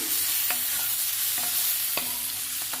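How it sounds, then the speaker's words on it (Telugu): Curry leaves and tamarind fry in a pan, a steady close sizzle broken by a few sharp scrapes of a stirring spoon, with no talk. "కరివేపాకుని, చింతపండుని కూడా వేయించుకుందాము."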